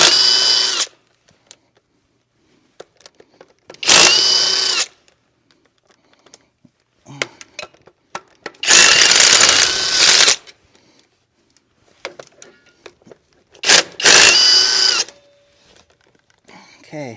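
Power tool spinning out the backing plate bolts on a rusted, beat-up 1958 Willys front axle, in several loud separate bursts of a second or two each with quiet gaps and small clinks between them.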